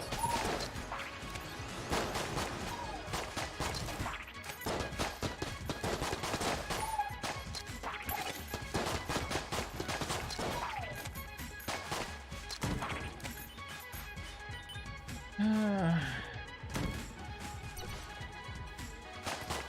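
Rapid, repeated gunfire from the Marine sidearm, a six-shooter, in the video game Enter the Gungeon, with frequent shots and crashes over game music through a busy, dense stretch.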